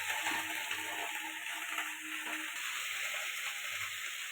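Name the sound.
frying pointed gourd in oil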